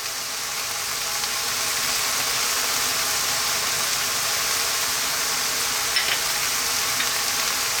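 Ground beef sizzles steadily in a hot pan as it starts to brown and break apart, a continuous close frying hiss with no talk over it.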